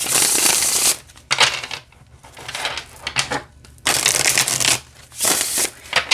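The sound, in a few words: shuffling linen tarot cards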